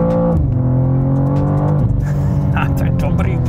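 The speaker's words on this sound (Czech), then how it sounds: "Miluju to auto a to jedu po rovině." BMW M2 engine drones steadily as the car drives along a straight road, a continuous harmonic hum that shifts pitch slightly around the two-second mark, with someone talking over it throughout.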